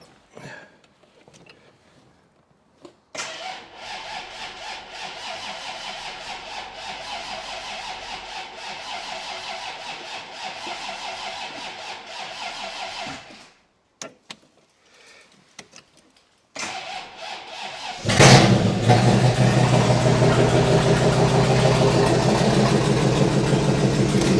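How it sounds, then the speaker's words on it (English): A starter motor cranks a Bentley T-series Mulliner Park Ward convertible in long stretches separated by pauses, then the engine catches and roars loudly and raw, running on with no exhaust fitted. "this car's got no exhaust on, so it's going to be a little bit loud, I think, if it does fire"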